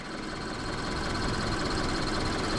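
Scion FR-S engine running at a steady idle, a continuous broadband hum and rumble with a faint rhythmic ticking, heard close and unchanging throughout.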